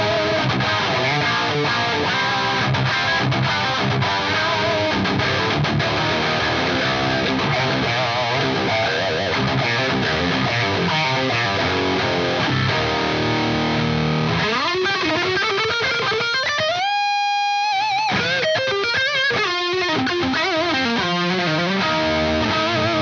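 Heavily distorted electric guitar through a high-gain modded Marshall amp model on an Axe-Fx III plays chugging riffs and sustained chords with bending notes, loud and saturated throughout, with a brief squealing lead passage near the end.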